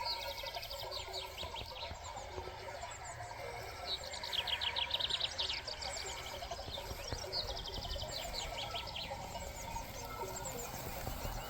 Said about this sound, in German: Nur die Vögel und die Glocken einer ganzen Ziegenarmee unterhalb des Aussichtspunkts.